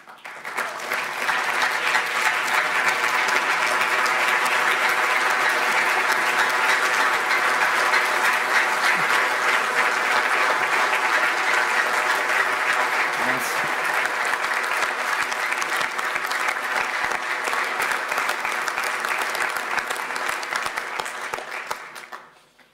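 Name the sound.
audience applause for Didier Deschamps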